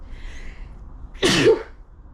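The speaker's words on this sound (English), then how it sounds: "I'm gonna sneeze." A single sharp sneeze bursts out after a moment of quiet room tone, close and loud, then fades quickly.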